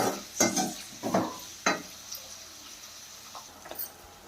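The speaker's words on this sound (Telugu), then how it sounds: "కొంచెం సాల్ట్ యాడ్ చేసుకుంటే తొందరగా ఆనియన్స్ బాగా ఫ్రై అవుతాయి" Onions frying in a pan with salt, quiet crackling under a few sharp clinks and scrapes of a utensil against the pan, busiest early and then settling into a soft sizzle.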